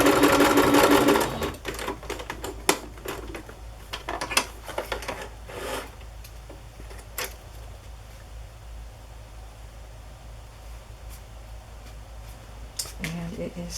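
Sewing machine stitching across the bottom of a wallpaper collage, a rapid mechanical whirring burst at the start followed by quieter intermittent clicks and handling noises, close by.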